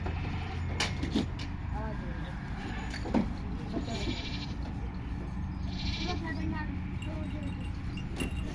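Rajanpuri goats on a goat farm give scattered bleats through steady background noise, while people talk nearby.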